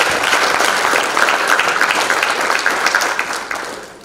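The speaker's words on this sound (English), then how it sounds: "So another round of applause for the team." Audience at an arbitration conference giving a round of applause, dense, continuous clapping from many hands, close and fairly loud, tapering off at the end.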